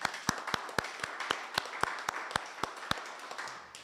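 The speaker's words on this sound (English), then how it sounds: "please join me in acknowledging those efforts with a round of applause" A small live audience at a university lab's grand opening claps in a sparse, evenly spaced rhythm, a handful of individual sharp hand claps standing out rather than a dense ovation.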